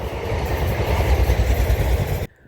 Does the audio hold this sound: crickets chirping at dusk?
no